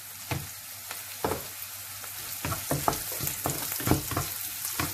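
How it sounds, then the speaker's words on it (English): Chopped vegetables for upma fry in hot oil with a constant crackling sizzle, broken by repeated spatula taps and scrapes against the pan, close and steady. "So I'm going to nicely fry everything well."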